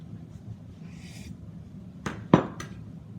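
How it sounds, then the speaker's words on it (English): A kitchen knife slicing a lime-like fruit in half for a cranberry limeade drink: a soft rustle, then two sharp close cuts and a knock of the blade on the board, in a quiet room. "I'll take the knife and cut this in half"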